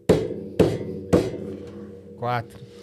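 A percussionist drums three sharp knocks on a hard table in an even rhythm, close and dry, followed by a brief vocal sound.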